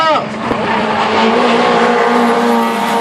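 Racing cars in a close wheel-to-wheel competition roar past loudly with sustained engine drone and a brief tire squeal, a commentator speaking over the action.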